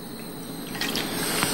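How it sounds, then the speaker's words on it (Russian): Cold tap water poured carefully into a glass for a magnesium-and-sand experiment, a close, steady trickle and splash that grows a little fuller and brighter partway through, with no talking. "Наливаем ее аккуратно в этот стакан."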